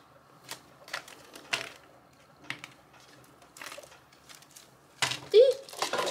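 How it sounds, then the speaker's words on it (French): Tarot cards being shuffled give off sporadic crisp flicks and slaps, ending in a louder flurry as cards spill from the deck, all up close in a quiet room. "Je prends les cartes qui tombent."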